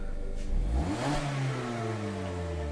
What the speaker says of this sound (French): Un petit rugissement de moteur, ça fait plaisir.